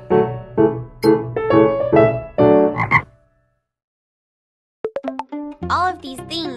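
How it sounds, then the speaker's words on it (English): Frogs croak in quick repeated bursts for about three seconds. After a short silence come a few sharper calls, then a final cluster of croaks, all close and loud. "These are fabulous frogs."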